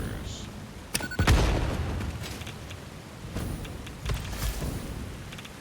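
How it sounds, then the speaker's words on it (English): Video game explosions near breakable rock go off in a few sharp blasts, one loud boom with a rumbling tail followed by softer bursts later, over a noisy background. "I have explosions, right?"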